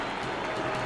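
A steady, dense roar of crowd cheering and applause fills an NHL 22 video game hockey arena, holding at an even, loud level throughout.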